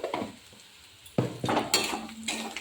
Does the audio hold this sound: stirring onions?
yes